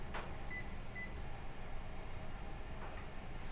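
A kitchen timer set while a Christmas plum cake bakes in the oven gives two short, high, faint beeps half a second apart over a steady low hum.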